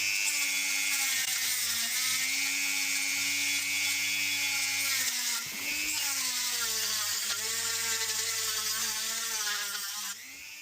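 A high-pitched rotary grinder ports a small-block Chevy cylinder head, whining steadily close by with brief dips in pitch as it bites into the metal, running almost continuously.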